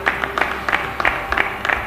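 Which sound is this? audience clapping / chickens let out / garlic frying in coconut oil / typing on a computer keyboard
audience clapping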